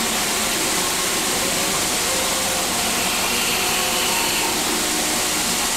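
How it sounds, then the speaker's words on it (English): An automatic milking plant running its washing cycle in a dairy farm parlour gives a steady, loud broadband whoosh and hum that holds unchanged throughout, with no talk. "the noise you can hear at the moment is the washing of the plant"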